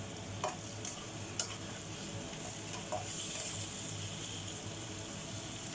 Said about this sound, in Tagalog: then ilagay na natin ang ating black fungus. Haluin natin.